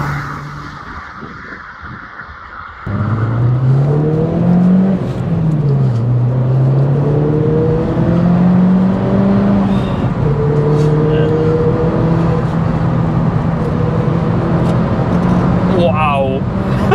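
MK1 Ford Focus RS heard from inside while driving, engine note rising and falling through several accelerations after a sudden step up in loudness, with occupants talking over it.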